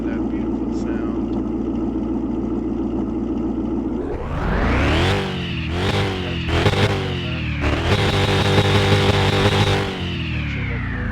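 A vehicle engine idles steadily, then revs up loudly several times in surges, with a deep rumbling roar that swells and settles.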